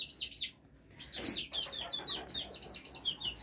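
Chicks peep in rapid repeated calls close by while eating grain, with a soft scratching rustle in the middle; the high chirps sound more like chicks than clucking hens.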